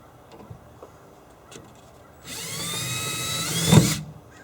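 A power drill drives a self-tapping screw into a shed door, first a few faint clicks and taps, then a sustained whining buzz for about two seconds rising to a louder peak before stopping abruptly.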